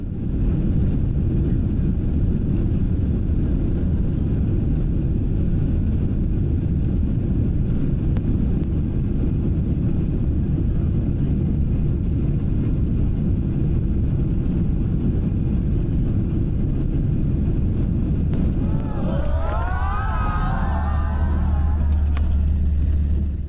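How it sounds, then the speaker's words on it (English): An airliner coming in to land at Newark airport, heard from inside the cabin as a steady, loud low roar of engines and airflow that holds throughout, with a brief higher whine rising near the end. "As we come in for a landing at Newark"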